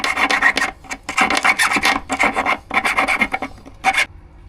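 A hand file rasps against metal in about six quick bursts of strokes, loud and close, separated by short pauses, with no talk.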